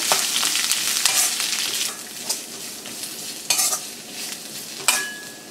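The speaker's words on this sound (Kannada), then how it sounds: "ಈಗ ಹೆಚ್ಕೊಂಡಿರುವಂಥ ಮೂಲಂಗಿ ಹಾಕ್ಕೊಳ್ಳೋಣ. ಕರಿಬೇವು ಹಾಕಿ ಮಿಕ್ಸ್ ಮಾಡಿ" Chopped radish and curry leaves fry in a pan while being stirred, a steady close sizzle broken by several scraping spoon strokes.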